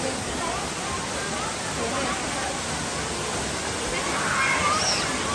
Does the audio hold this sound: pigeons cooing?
no